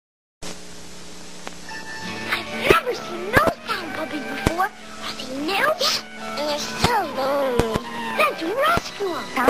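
A plush Pound Puppies toy dog barks, yips and whimpers in a 1980s television commercial, with short bursts over jingle music and singing voices.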